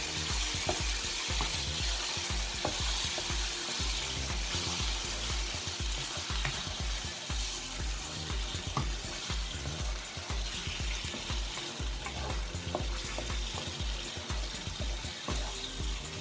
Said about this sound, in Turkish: Şimdi biraz makarna suyumuzu da üzerine ilave edeceğiz. Karıştıracağız.